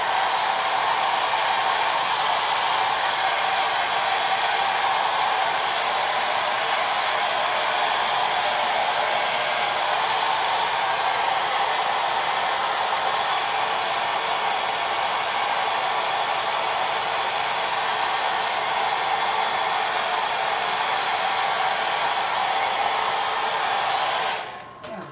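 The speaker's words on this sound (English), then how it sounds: "use your hair dryer on the lowest heat setting" A hair dryer on its lowest heat setting drying paint on a canvas blows as a loud, steady, unbroken whoosh for the whole stretch, close by, then clicks off at the very end; no one talks.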